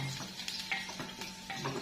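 Garlic dropped into a hot pan and frying, a faint sizzle with light stirring scrapes and clinks of a utensil against the pan, close and quiet, without talk.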